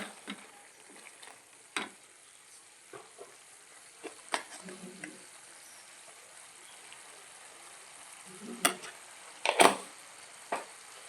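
A pepper-seasoned meat dish is stirred in a pan, giving a faint sizzle with scattered scraping clicks and knocks, some louder near the end, under occasional soft speech.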